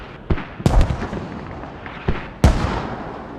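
Mortar rounds exploding in the Squad video game on the Kohat map, four or five sharp booming blasts at uneven intervals, each trailing off into a low rumble over constant background noise.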